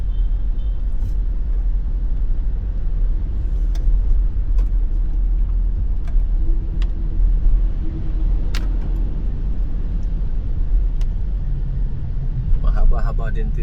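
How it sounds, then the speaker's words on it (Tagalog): A vehicle drives through the Marcos Highway tunnel, giving a deep, steady road rumble and hum that fills the enclosed space, with occasional clicks and a voice talking over it. "So, ito yung tunnel ng Marcos Highway"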